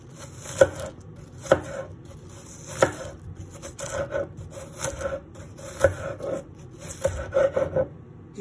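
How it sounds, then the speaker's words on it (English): Knife slicing through an onion on a cutting board, a series of distinct sharp cuts spaced about a second apart with softer scraping in between, close and clear with no talking. "I'm going to just show you guys how I cut the onion. So what you're going to do is you're going to slice it like this."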